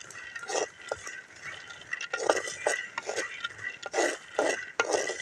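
Groundnuts are dry-roasted and stirred in a pan, giving a steady, close rattling scrape with repeated clinks as the nuts are tossed, continuing without a break and without talk.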